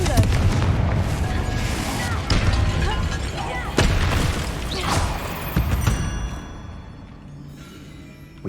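Confringo spell blast in the Hogwarts Legacy game, a loud booming explosion with crackling rumble that swells in bursts and then fades away over several seconds.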